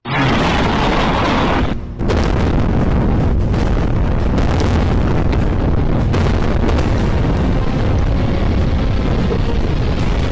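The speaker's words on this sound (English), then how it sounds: "What you just saw in that video was Russia's new hypersonic Orishnik missile." A loud, sustained roar and rumble from a Russian Oreshnik hypersonic missile strike, with a sharp break near the start and then continuous heavy blasting and wind-like buffeting throughout, no voices.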